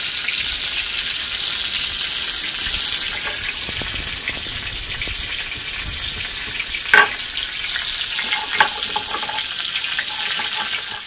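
Pointed gourd (potol) frying in a pan gives a steady, dense sizzle that runs throughout, with two brief utensil clinks near the end and no talking.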